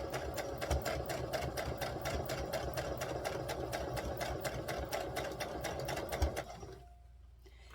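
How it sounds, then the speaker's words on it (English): A sewing machine runs a straight stitch along a dress skirt, a fast, close rhythmic needle chatter over a motor hum that continues steadily for several seconds, then stops abruptly. "we're going to go back to straight stitch 1, and we're going to start to sew this in place."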